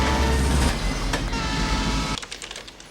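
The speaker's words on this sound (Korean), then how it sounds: "논리적인 킬러 데이빗은 기차역에 당도하고 말았습니다" A train at a railway station in a thriller film rumbles loudly and steadily with clattering wheels, then cuts to quieter, sparser clicks and knocks near the end.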